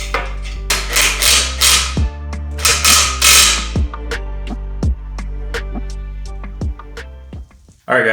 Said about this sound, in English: So when I tighten it from the bottom, I don't have to hold that bolt.